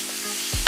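Meat and vegetables cook on a Blackstone flat-top griddle as a steady broadband sizzle, with a brief louder burst of sizzling and scraping near the end; no one speaks.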